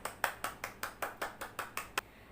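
About ten brisk, evenly spaced hand claps from a single clapper in a fifth-grade classroom teaching simulation, close and crisp, ending after two seconds with no voices.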